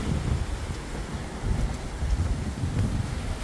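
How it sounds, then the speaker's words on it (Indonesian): Strong, gusty wind roars outdoors and buffets the microphone, producing a continuous low rumble that swells and eases without a break. "Dan sampai hari ini masih berangin"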